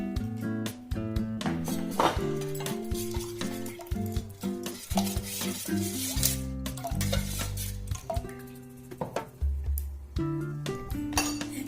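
Salt and roasted, ground cumin powder being stirred into sattu juice, with repeated clinks of a spoon against a glass or steel vessel in quick irregular bursts, close and fairly loud, no voices.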